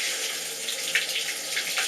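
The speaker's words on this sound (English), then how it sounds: "I prefer just to turn on the shower head" A shower head sprays water into a bathtub, a steady bright hiss of running water that stays close and even throughout, with no talking.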